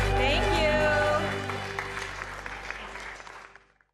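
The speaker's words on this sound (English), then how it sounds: "a big round of applause to everybody who's a part of the HAPA movement" An audience applauds people involved in the HAPA movement, the clapping strongest at first under a speaking voice, then thinning and fading out toward the end.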